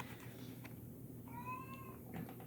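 A house cat gives a single clear, drawn-out meow, faint and a little distant, rising briefly out of a quiet indoor room background.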